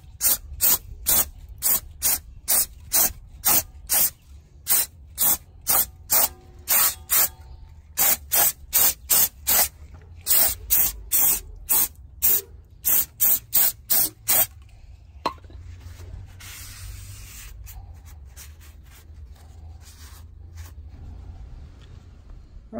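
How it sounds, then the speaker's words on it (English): Brake cleaner sprayed onto the brake rotor of a 2003 Mitsubishi Lancer ES, a rapid series of short, sharp, loud aerosol hisses in a steady rhythm for about fifteen seconds, then quieter shuffling and handling noise. "Just to be extra sure that everything's clean, I'm going to spread it with brake cleaner again."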